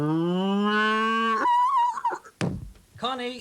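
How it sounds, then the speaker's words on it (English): A comedic cow moo used as a radio sound effect, one long rising low bellow up front, followed by voices talking. "Was that another cow gone, Charles?"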